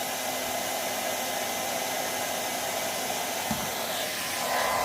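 A hair dryer running at maximum power, plugged into a LEDVANCE smart WiFi plug, gives a constant loud whooshing hum with a faint tonal whine and one small bump near the end.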